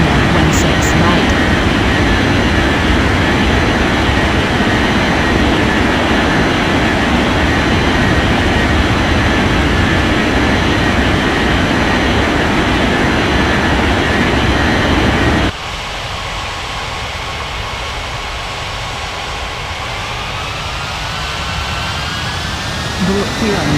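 Continuous jet airliner engine roar from the Unmatched Air Traffic Control game, loud and steady for most of the span, then dropping to a quieter rising turbine whine as a plane takes off or lands, with a controller voice over it.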